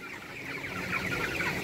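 Chickens in a poultry farm shed cluck and chatter in a busy overlapping murmur, moderately close and steady, growing slightly louder toward the end.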